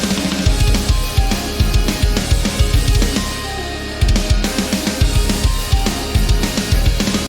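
An energetic programmed FL Studio beat pairs a rim click with a snare over punchy low kicks in a fast, steady pattern, with glitchy guitar-style melody layered above and a brief dropout near the middle.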